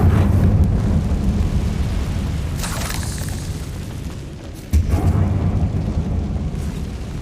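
A Confringo explosion spell goes off in Hogwarts Legacy on PlayStation 5: a loud, sustained booming rumble with heavy low-end roar, a burst of crackling debris midway, and a second sharp blast near the end.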